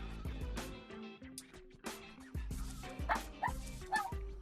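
A small dog gives a series of short, high yips and barks in quick bursts, close by, with some whimpering between them.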